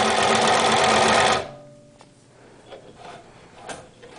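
A TuffSew portable industrial walking foot sewing machine stitches through vinyl in a loud, steady mechanical run for about a second and a half, then stops, leaving faint handling clicks and rustles.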